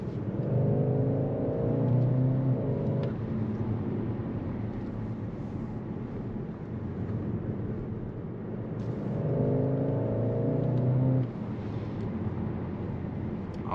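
A 2022 Skoda Octavia RS hybrid estate, 245 hp, accelerates from inside the cabin, its engine note rising in two long steady pulls over constant road rumble, with no talking.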